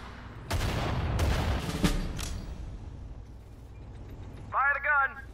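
Artillery and gunfire boom in a Sudden Strike 4 battle during the invasion of Iwo Jima, with several loud broadband blasts over the first two seconds and battlefield rumble beneath, then a shouted voice near the end.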